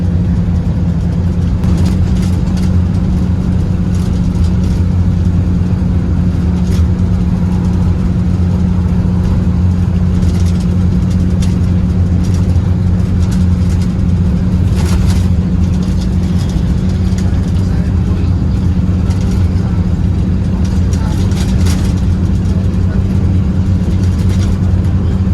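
The Anugerah 88 bus engine drones steadily while driving on the trip toward Surabaya, a loud, continuous low hum with road noise from inside the cabin and no talk.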